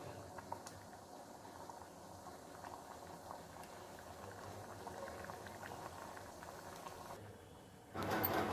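Moong dal cooked with ridge gourd bubbles in a pot at a steady, close simmer, a continuous soft burbling and popping that runs evenly throughout and swells louder for a moment at the end.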